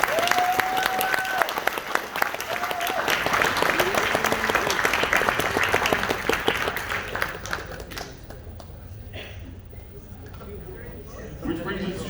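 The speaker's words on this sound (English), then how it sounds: "Can I get another round of applause for our great..." Audience at a PAX game jam clapping and cheering in a lively sustained round, with voices mixed in, tapering off toward the end into quieter scattered claps.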